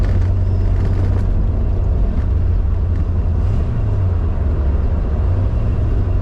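A great big V8 in an Aston Martin DBS runs with a steady, loud low rumble heard from inside the moving car, droning evenly throughout with some wind noise.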